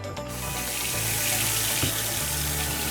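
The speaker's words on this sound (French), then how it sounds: "On peut aussi laisser couler l'eau un petit moment" Water streams steadily from a newly installed kitchen mixer tap into the sink, a loud, close, continuous rushing splash with a low hum underneath.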